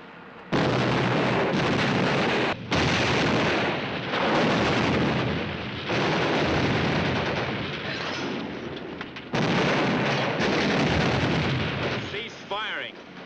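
Tank guns fire high-explosive shells in a 1951 war film, a series of loud, heavy booming blasts and rumbling roars that fill the clip, with brief gaps between salvos.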